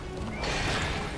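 Horse whinny from the online riding game Alicia Online, one clear neigh swelling midway over faint hoof clip-clop, fairly close and alone without talk.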